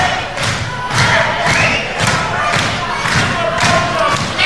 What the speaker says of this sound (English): the crowd really screaming for Cortez to get back in there